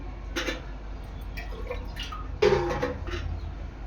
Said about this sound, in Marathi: आता ह्यामध्ये मी पाणी ऍड करणार आहे